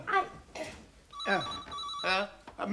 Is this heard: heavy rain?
no